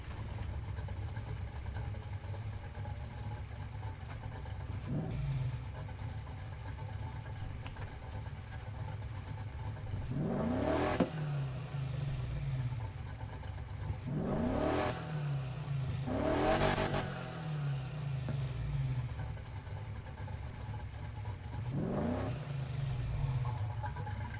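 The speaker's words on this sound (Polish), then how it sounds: "chodźcie dźwięk wydechu" A car exhaust revving in Need for Speed Heat, a low idle punctuated by four sharp rising throttle blips, each falling back to a burbling idle.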